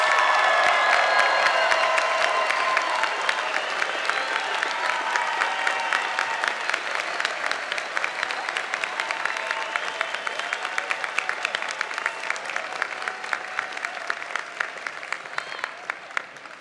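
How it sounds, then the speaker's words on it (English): Sustained applause fills a hall for fine arts graduates at a spring commencement ceremony. Many hands clap densely and steadily throughout, at first with a little cheering, then gradually thinning and softening toward the end. "One more round of applause, please, for all of our graduates."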